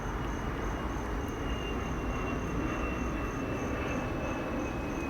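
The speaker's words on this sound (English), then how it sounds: "there's a plane going by" An airplane passes overhead as a continuous broad roar that holds steady and fairly loud from start to finish, with no talk over it.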